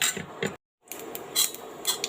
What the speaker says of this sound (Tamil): இதெல்லாம் சேர்த்து நல்லா 1 நிமிஷம் வதக்கிக்கலாங்க